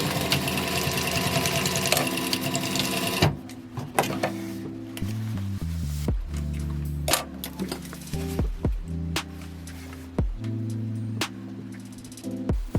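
Sewing machine stitching a wide brim sun visor, its motor whirring steadily close by in short runs that stop and start, with clicks and knocks between stitching passes.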